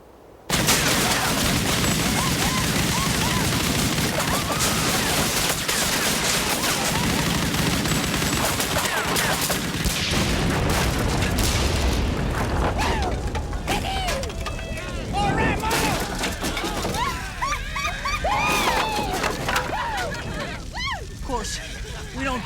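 Gunfire shooting up a saloon in a Western drama, a sustained loud barrage of overlapping shots and crashing debris lasting many seconds, with voices shouting over it.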